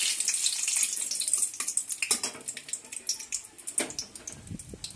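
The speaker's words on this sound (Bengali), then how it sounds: "এখানে সর্ষের তেলটা আমি গরম করে নিয়েছি, দিয়ে দেব শুকনো লঙ্কা আর তেজপাতা" Dried red chillies and bay leaves hit hot mustard oil, giving a bright crackling sizzle that starts loud and settles into scattered pops and spits, close up with no voices.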